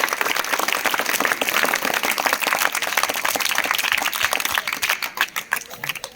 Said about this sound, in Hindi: क्लास की यह शुरुआत आप जोरदार तालियों के साथ करें